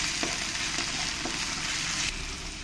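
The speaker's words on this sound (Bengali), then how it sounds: "আর এর মধ্যে দিয়ে দেবো আদা রসুন পেস্টটা দিয়ে ভালো করে আমি পেঁয়াজের সঙ্গে মিশিয়ে নেব।" Onions with ginger garlic paste sizzle steadily in hot oil for matar paneer, a loud continuous frying hiss close up, with a few soft scrapes of stirring.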